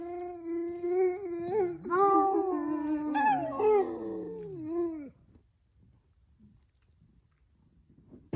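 A sled dog on a northern trapline whimpers and howls close by, a wavering, sliding chorus of several long howls that stops abruptly, leaving quiet with faint movement.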